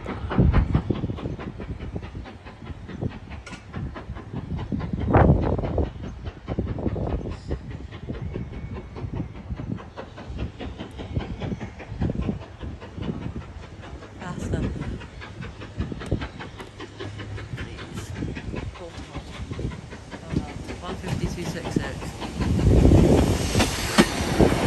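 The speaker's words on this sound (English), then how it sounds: "This train might block my view" A train rumbles past at Dawlish Warren, a loud close clatter of wheels and rolling stock with rhythmic clicks and bursts of roar that build again toward the end.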